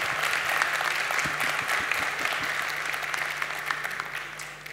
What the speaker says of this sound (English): applause, applause, please.